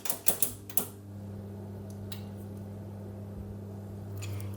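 An oven being switched on to 170 degrees fan for baking vegan vanilla crescent cookies: a few quick clicks and beeps of the controls, then a steady low hum of the running fan oven, close and without talk.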